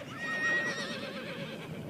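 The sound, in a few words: Pura Raza Española horse neighing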